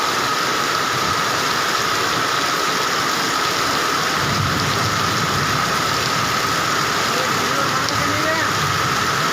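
Torrential rain pours onto flooded streets in Gokak city, a dense, unbroken roar of water holding steady throughout, with a faint engine hum underneath.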